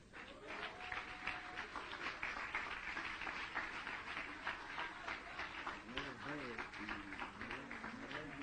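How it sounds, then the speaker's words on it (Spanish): Congregation applauding during a church service, a steady dense wash of clapping throughout with voices and singing-like tones rising over it. "Dele un aplauso al Señor."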